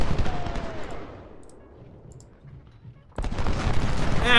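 Musket volleys in the Ultimate General: Civil War battle game crackle as a dense, rolling fusillade that fades away and then bursts loudly back in, with no speech over it.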